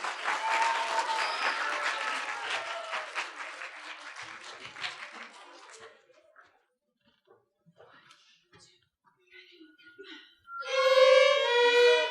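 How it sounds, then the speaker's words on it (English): Audience applause at a school instrumental winter concert, a dense burst of clapping for about six seconds that fades out, followed by quiet rustling and a brief voice near the end. "So if we could give them another round of applause."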